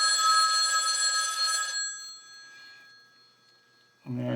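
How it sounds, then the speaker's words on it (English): A telephone rings loudly nearby for close to two seconds, then fades to a faint trailing tone and near silence before a short low thump at the end. "Now the phone's ringing."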